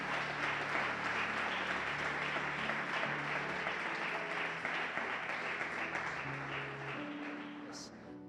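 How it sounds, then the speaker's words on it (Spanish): Church congregation applauding during a sermon, steady crowd clapping that tapers slightly toward the end, with low musical tones and voices underneath. "Denle un fuerte aplauso al Señor en esta hora."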